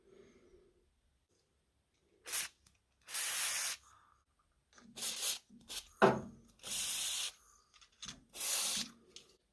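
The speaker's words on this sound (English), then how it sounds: "I think we'll get some more penetrating oil in there." An aerosol can sprays penetrating oil onto a seized treadle grinder in six or seven short, hissing bursts of varying length, close and clear, separated by quiet gaps with a few faint clicks.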